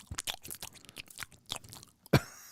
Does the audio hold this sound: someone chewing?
yes